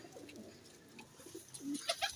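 A male Firozpuri pigeon gives soft, close cooing, a few low throaty calls over a faint background, with a slightly louder burst near the end.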